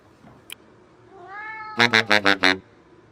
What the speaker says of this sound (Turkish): Mutfakta kedi.